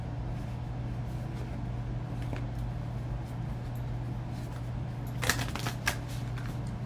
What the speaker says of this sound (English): I think I will pull one of the astro cards as well